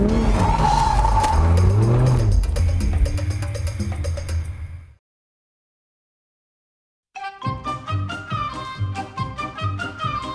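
An Audi R8 sports car roars and its tires squeal as it drives hard in circles, then a brief silence before the engine returns with sharp revs.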